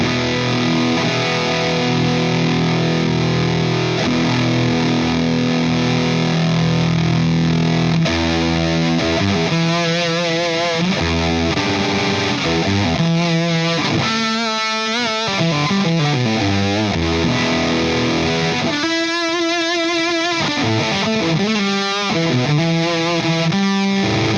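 Loud, saturated fuzz guitar through a Wampler Cryptid fuzz pedal with the fuzz control turned up, thick and compressed, sustaining chords and then playing bending riff phrases without a break.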